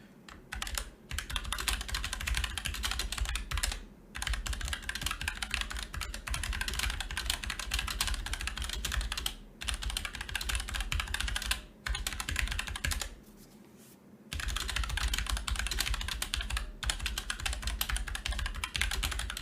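Rapid typing on a computer keyboard clatters close and continuously in dense bursts, broken by a few brief pauses.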